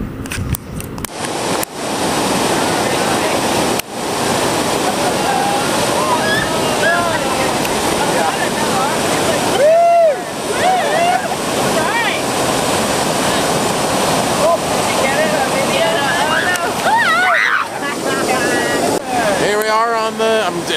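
Loud, steady rush of churning river water on the Rogue River during a raft ride, with broadband roar throughout and brief surges near the middle and end; voices break in now and then.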